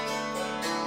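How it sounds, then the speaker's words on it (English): Hammered dulcimer struck with the bare wooden side of the hammers, giving a bright, harsh, metallic ring; a sustained wash of strings rings on through the short passage with no speech. "when I play with the wood, it's harsher, more metallic, like a guitar"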